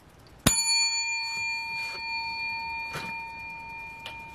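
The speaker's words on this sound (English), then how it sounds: "Did I ring the bell for that 100?" A single bright ring of a counter bell rings out sharply during a lottery scratch-ticket session, its clear tone sustaining and slowly fading, with faint handling noises afterward.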